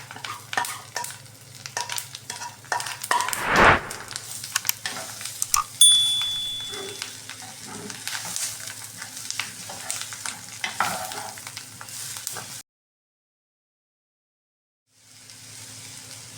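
Chopped onions fry with Maldive fish for seeni sambol, sizzling steadily while a utensil stirs and scrapes the pan close by. The sound then cuts to a brief silence before the frying returns faintly.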